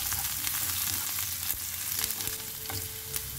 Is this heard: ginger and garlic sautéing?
yes